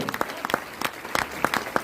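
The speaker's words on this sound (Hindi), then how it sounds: "तालियां हो जाए इन दोनों के लिए, तालियां बजती रहनी चाहिए" A small audience claps for a couple being introduced at a DXN business gathering, with sparse, uneven individual claps near the listener rather than a dense ovation.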